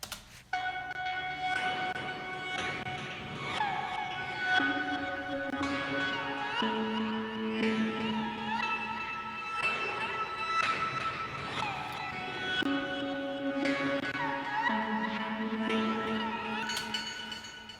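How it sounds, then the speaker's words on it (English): An Omnisphere arpeggiator runs a chord progression as a steady stream of bright, plucked synth notes, rippling up and down through each chord change at an even, moderate level with no voices. "So I went to Omnisphere and I used the arpeggiator"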